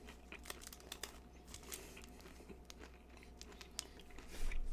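Someone chews a soft, chewy chocolate-topped snack with bits of orange in it, giving a run of small close crinkling crunches and mouth sounds with no talk.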